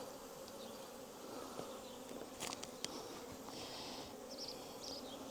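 A few hundred honeybees buzz steadily inside a small jar while being twirled in sugar to shake off varroa mites, a continuous close insect drone with brief brighter flurries of wingbeats.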